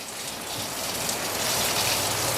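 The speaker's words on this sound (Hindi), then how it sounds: "बिजली भी चमक रही है, बारिश हो रही है, बादलों ने घेर लिया है।" Steady rain pours down in a forest during a thunderstorm, an even, dense hiss of falling water with no talking.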